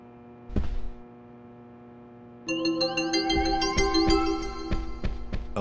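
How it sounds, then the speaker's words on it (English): Notification chime from the video game Deadly Premonition: Origins: a soft thump, then a bright layered ringtone-like jingle of stacked tones with rhythmic percussive hits, loud and clear with no talking. "I love that notification sound too."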